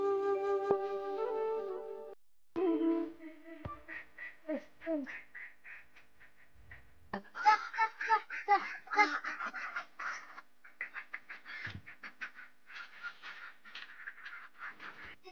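Ducks quack in clustered, overlapping bursts nearby, after a stretch where a person calls out; the quacking is moderately loud and uneven.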